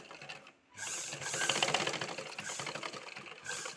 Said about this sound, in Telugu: నెక్ అయితే స్టిచ్చింగ్ అయిపోయింది.